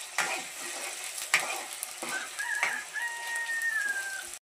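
Paneer masala gravy with onion and coriander sizzles and fries in a home-kitchen pan, with scraping stir strokes and a few sharp clanks, and a faint bird call rising in the background.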